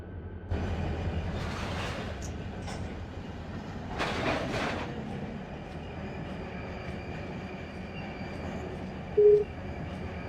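An ATSF locomotive in the Run 8 train simulator game rumbles steadily from the cab of the lead unit, with a low continuous drone, a couple of brief hissing swells and a short tonal beep near the end.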